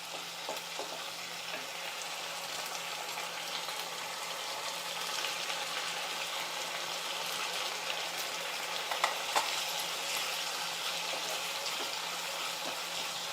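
Onion and tomato fry with salt and turmeric while being stirred in a pan, giving a steady close sizzle with occasional scraping clicks from the spoon and no voices.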